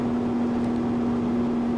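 An aircraft engine in the X-Plane 10 flight simulator game holds a steady, even drone at high revs, continuous and moderately loud with a constant tone and no talk.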